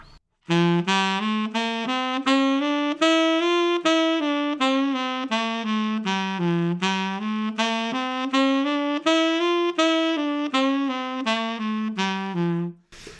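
A solo wind instrument plays a melodic jazz line, articulating only the offbeats, in a steady series of short, clearly tongued notes rising and falling over about twelve seconds, close and alone.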